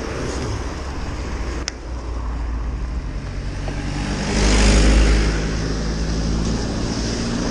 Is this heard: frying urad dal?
no